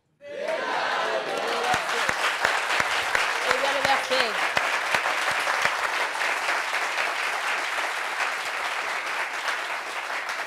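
Studio audience applauding on a French television show set, a steady, loud wash of clapping sustained for about ten seconds, with a few cheers and voices mixed in near the start.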